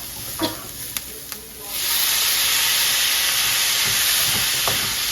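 Holy basil and a fried egg stir-frying in a hot pan, a few sharp clicks and taps giving way to a loud, constant sizzling hiss that fills the rest, close up with no speech.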